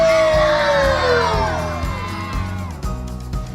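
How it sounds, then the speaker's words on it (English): Children cheer and shout together in a hockey arena, a loud burst of high voices that fades gradually over a few seconds while the crowd keeps up scattered whoops. "Give me a big cheer."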